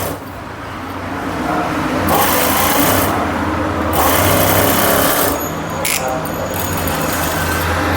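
A sewing machine runs a long stitch along a blouse in loud, close bursts with brief pauses, while someone talks over the whirring.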